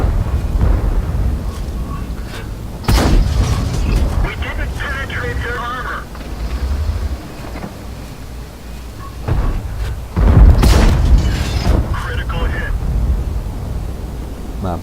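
Light tank firing its main gun in a tank video game, sharp booming shots repeating every few seconds over rumbling engine noise and battle ambience, with someone talking throughout.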